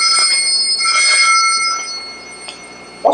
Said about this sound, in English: certainly you recognize the sound of the front doorbell